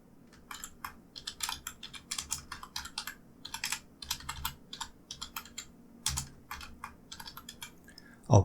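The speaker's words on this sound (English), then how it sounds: "So I'll type in where it says new quiz" Someone types on a computer keyboard, a quick, irregular run of close clicking keystrokes in short bursts, heard alone at moderate volume.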